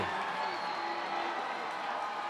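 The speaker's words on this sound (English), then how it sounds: "GP crowd trying to get into it here." A high school football crowd at a Glacier Peak game, a distant, even wash of cheering and noise from the stands, steady and moderate without distinct peaks.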